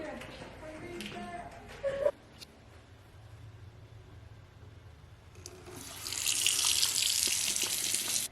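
Household tap water begins running into a sink after power and hot water are restored during a Texas freeze, a steady hissing stream rising in the final seconds after quieter room noise.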